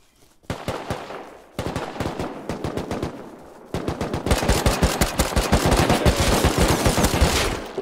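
Rapid automatic gunfire from a multiplayer survival video game raid crackles in loud, dense bursts, pausing briefly between volleys before a long continuous stream of shots.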